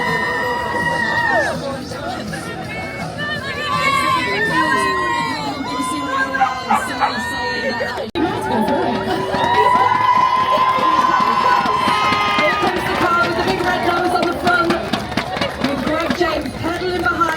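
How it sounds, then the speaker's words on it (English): A crowd lined up along a street in Sunderland waits and cheers, a dense, continuous mix of excited chatter, shouts and high children's voices, close and loud throughout. "The people of Sunderland are lined up, they've got their phones out, they're filming, they've got their signs, they're waving."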